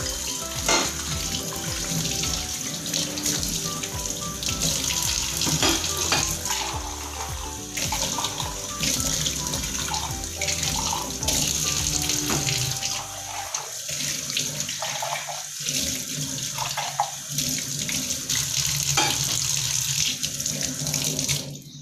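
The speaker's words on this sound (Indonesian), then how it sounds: "kita lihat dalam video ini cara bapak ini mencuci piring" A man washing dishes under a running kitchen tap: a steady, close rush of water with clinks and scrubbing of plates, a brief lull partway through, and no talking.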